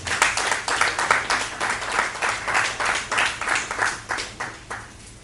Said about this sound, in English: Please a round of applause for the